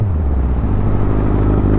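A motorcycle with a single-brake setup, a bike named Roadkill, rumbles steadily close by as it slows to a stop, a low engine drone with no voices.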